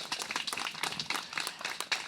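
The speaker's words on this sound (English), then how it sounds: "Big round of applause" Wedding guests clap together in a steady round of applause, a dense patter of many hands held at moderate distance with no talk over it.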